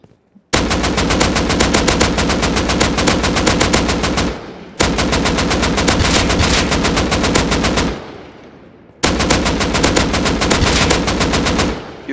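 MP5 submachine gun in the video game Rust firing three long rapid full-auto bursts, loud and close, with brief pauses between them.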